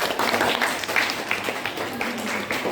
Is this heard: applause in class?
yes